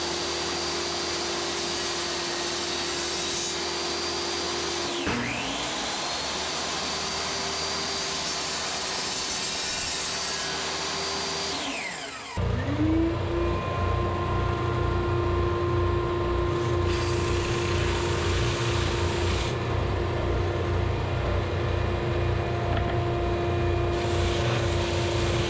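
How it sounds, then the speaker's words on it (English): A router table spinning up and running in a woodworking shop while making a picture frame with splines, a loud steady whine that dips and restarts midway, then roars on continuously with a rougher cutting edge, no voices. "I'm going to get the router table out, and I'm going to take this section out here next"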